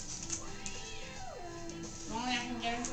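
A cat next to a Lego AT-AT toy gives drawn-out, wavering meows, one sliding down and a louder one rising near the end. The calls are close and fairly faint.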